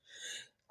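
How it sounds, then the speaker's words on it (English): A single quiet, breathy sneeze, short and close, with a soft trailing sound at the end. "I had to sneeze a little bit"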